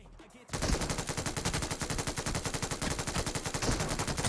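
Automatic weapon fire in the PUBG Mobile shooter game, a loud sustained burst of rapid, evenly spaced shots that starts abruptly after a brief quiet moment and continues steadily to the end.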